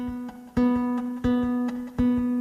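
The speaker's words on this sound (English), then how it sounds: "I'm playing with it just flesh" Classical guitar notes are plucked with the flesh of the thumb only, giving a soft, rounded attack. Four notes ring out in a slow, even sequence, close and alone, each sustaining until the next.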